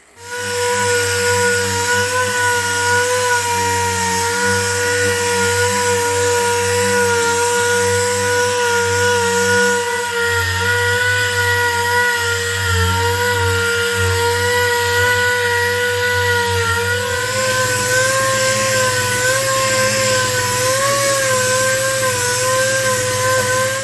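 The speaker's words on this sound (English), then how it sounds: "So I'm gonna go ahead now and get a bunch of this sanded." A power sander whines continuously at close range, a loud steady motor hum with a shift in pitch partway through as it works a surface.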